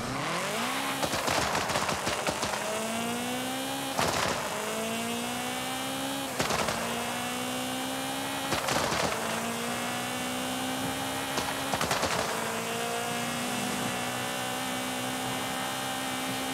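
Engine of the slowest car in Forza Horizon 5 held near full throttle, a steady loud drone with rising harmonics, broken every few seconds by sharp gear-shift cuts before the note climbs again.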